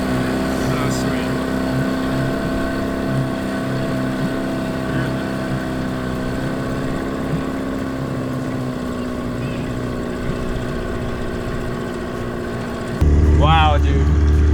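Amphibious go kart cruising on water under outboard motor power, a steady mid-level engine drone with wind noise, rising louder near the end as a voice speaks.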